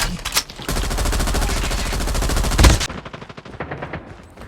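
Rapid automatic gunfire from the mobile shooter game Call of Duty Mobile, a loud sustained burst lasting a couple of seconds, followed by a few scattered shots and quieter game effects with no talking.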